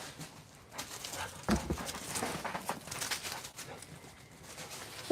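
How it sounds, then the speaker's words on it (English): Several excited dogs whimper, pant and scuffle close by in a noisy burst lasting a few seconds, with no talking over it. "Look at these dogs. Look at you guys going crazy."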